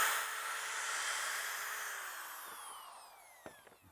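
A power drill bores through a wooden stair tread while building a picture-framed stair tread, giving a steady, close, whining grind that slowly tapers off, followed by a few sharp clicks and knocks near the end.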